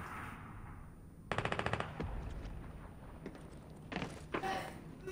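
Fortnite gunfire: a rapid burst of about eight automatic shots, then scattered thuds, footstep-like knocks and a couple more loud crackling bursts, moderately loud in a game mix with no talking.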